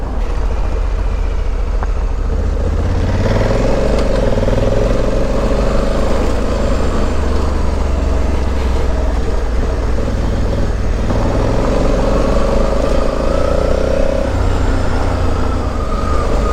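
An 1100cc motorcycle weighing 250 kilos rides off-road along back lanes, its engine a steady, loud drone that holds throughout with a few rising throttle tones, and no one talks over it.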